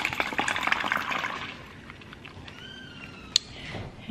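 A drink poured out into a sink, a close liquid gush and splatter that tapers into quieter trickling, with a sharp clink near the end.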